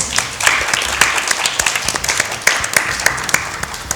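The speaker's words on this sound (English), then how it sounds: "A round of applause for the gorgeous theatre here." An audience applauds in the school theatre at Downe House during a quiz event, with dense, sustained clapping close by and a few sharper individual claps.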